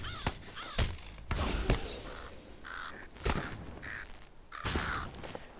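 Repeated harsh crow caws from a video game, several calls spread across the stretch with short gaps, fairly close and loud over a faint background.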